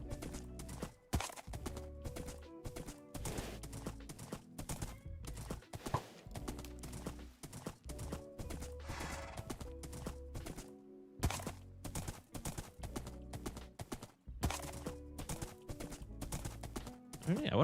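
A horse in Minecraft, clip-clopping hooves and occasional snorts or whinnies, repeated steadily through the whole stretch, fairly close, with game music and effects layered underneath.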